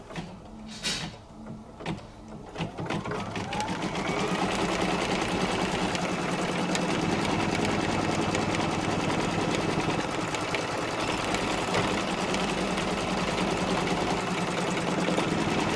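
An embroidery machine tacks down fabric with a few initial clunks, then settles into a steady, loud, continuous whir and needle chatter that carries on alone without pause.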